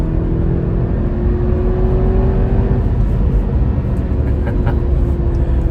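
A 2018 Porsche Macan engine drones steadily and loudly up close, its pitch climbing and then dropping as a gear changes partway through.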